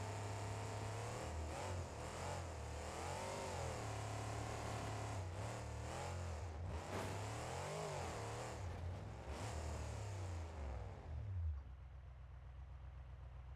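A monster truck engine in BeamNG.Drive, Monster Jam build, runs with a steady low rumble and wavering revs for about eleven seconds, loud and alone, then drops abruptly to a quieter idle.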